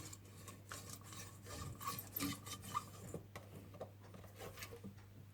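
Garlic clove rubbed around the inside of a fondue pot for cheese fondue, giving soft, faint scraping and rasping strokes close by over a steady low hum, with no talking.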